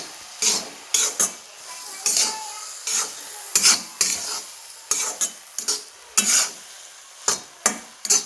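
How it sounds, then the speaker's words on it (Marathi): Egg bhurji is mixed with chopped coriander in a pan, a spatula scraping in separate bursts of gritty strokes with short pauses between them, a faint sizzle underneath. "आता आपण शेवटी याच्यामध्ये कोथिंबीर घालणार आहोत आणि हे मिक्स करून घेऊया"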